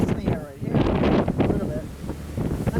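Strong wind gusts of around 75 miles per hour buffet an outdoor microphone, a loud, continuous roaring rumble that swells and dips in uneven surges, with a voice shouting partly under the noise.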